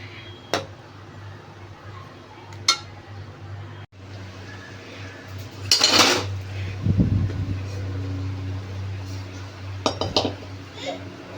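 An iron kadhai being rubbed clean with paper, giving a few sharp metallic clinks followed by a burst of rough scraping, heard near and under a man's speech.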